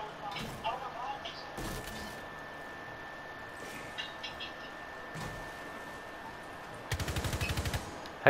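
Gunshots in a shooter video game, with a few scattered single shots followed by a rapid burst near the end, under a voice talking.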